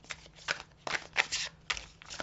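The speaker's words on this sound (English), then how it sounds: "She said keep shuffling." Tarot cards being shuffled close up, a run of quick riffling bursts with short gaps between them, quiet and crisp, with no talking over them.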